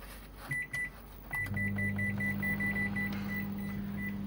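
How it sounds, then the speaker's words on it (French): A microwave oven is plugged in and switched on: a few clicks and beeps, then a steady electrical hum with a high tone that runs continuously, close by. "donc alors on va brancher le micro-ondes"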